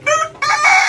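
An Ayam Ketawa, the Indonesian laughing chicken breed, crows loudly and close in two bursts with a short break between them, and no voices can be heard.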